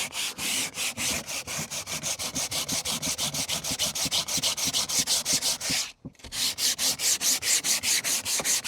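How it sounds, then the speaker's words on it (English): Sandpaper rubs by hand across a Jeep Gladiator headliner surface in fast, steady back-and-forth strokes, close and loud, with one short pause before the scraping resumes. "So we're gonna grab some sandpaper, start sanding down."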